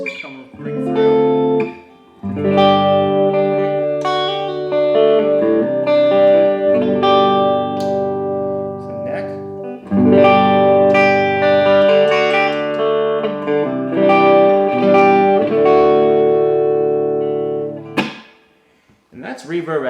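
Clean electric guitar chords ring out through a Monoprice Stage Right 15 amp with reverb set at 2, strummed in sustained phrases that decay into a lingering wash before short pauses.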